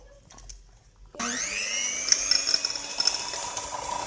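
After a quiet pause, an electric hand mixer switches on abruptly to whip dalgona coffee, its close, steady motor whine rising in pitch and then holding loud and continuous.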